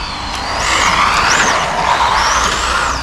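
A Traxxas Mini Rally VXL RC car sliding and skidding, its small electric motor whining up and down in pitch while tires scrub across the surface, close and loud, with no voices.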